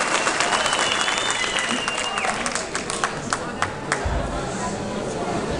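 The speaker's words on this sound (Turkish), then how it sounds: "bu yiğit dadaşa alkış" An audience at a village cultural festival in Erzurum applauds an event organizer, with dense, loud clapping that tails off into scattered claps and crowd murmur.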